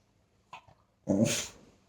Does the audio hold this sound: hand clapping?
no